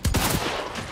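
Rapid gunfire in the video game Hunt, a quick burst of several sharp shots in the first half second, then a fading reverberant tail, with no talking.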